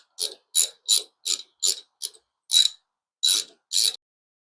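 Ratchet with a 7/16 socket on an extension working a nut on a 2007 Victory Vegas motorcycle, nine crisp clicks in a quick uneven rhythm, close and alone.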